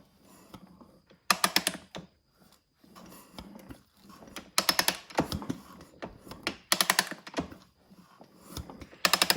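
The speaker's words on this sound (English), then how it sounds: "I'll roll the motor over and make sure our piston goes up and down nicely" A Suzuki RMX250 dirt bike engine is turned over slowly by hand, giving short clusters of crisp mechanical clicks and ratcheting ticks. The bursts come in uneven groups with quiet gaps between them, close up.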